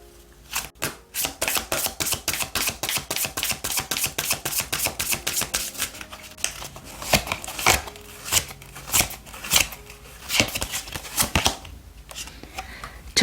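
Oracle cards shuffled by hand for a tarot reading, a rapid run of crisp riffling flicks for about six seconds, then slower, separate card slaps and shuffles, close and alone.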